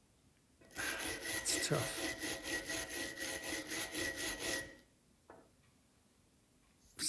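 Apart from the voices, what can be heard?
picking hard rust off a 270-year-old iron key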